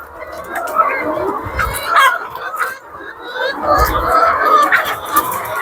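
Chickens squabble over papaya leaves, a close flock clucking and squawking in overlapping bursts, with rustling and scuffling throughout.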